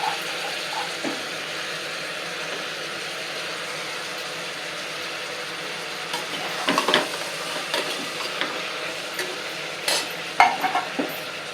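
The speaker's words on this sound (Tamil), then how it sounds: "போட்டு இது எண்ணெயிலே பெரட்டி நல்லா வதங்கட்டும்" Vegetables sizzle steadily in hot oil with curry leaves and onion, with occasional scraping and clinks of a spatula stirring the pan toward the end; no one speaks.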